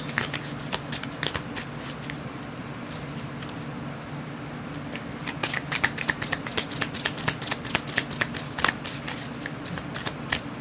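Tarot cards are shuffled close up, first in soft sliding riffles and then in quick, crisp flicking patters that speed up toward the end.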